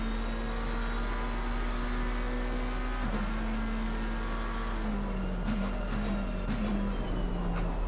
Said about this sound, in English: Listen to the noise from this McLaren for a little bit.